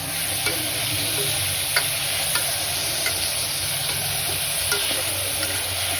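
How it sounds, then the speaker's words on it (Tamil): Tomatoes sizzle in oil in a pan for a South Indian mutton kuruma and are stirred steadily. A constant close frying hiss is broken by a few light scrapes and taps of the spoon. "இப்போ வந்து தக்காளி போட்டிருக்காங்க. ஸோ நல்லா வதங்கணும்."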